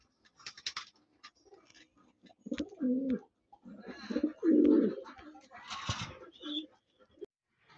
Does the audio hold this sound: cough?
no